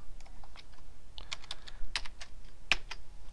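Computer keyboard typing while entering data into Excel, a short run of crisp, close key clicks with irregular spacing and a couple of louder taps, no talking.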